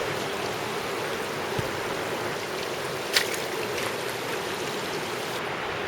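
Water flows in the Subway slot canyon of Zion National Park, a steady, close rushing wash that stays constant throughout, broken only by a couple of faint clicks.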